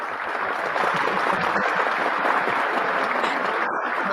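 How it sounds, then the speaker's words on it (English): An audience gives a steady, continuous round of applause welcoming a guest onto the stage at a business talk event, filling the room evenly throughout. "We give you a round of applause there."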